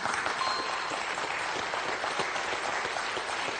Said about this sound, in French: Applaudi par Marion.